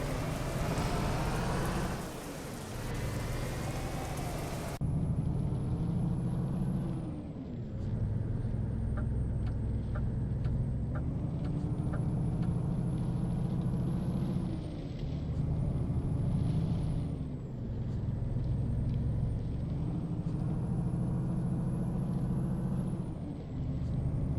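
A DAF XF truck in Geest International livery drives through town in Euro Truck Simulator 2, its simulated diesel engine droning steadily with loud low rumble, rising and falling through gear changes, with air brake hisses and a faint rain-like wash throughout.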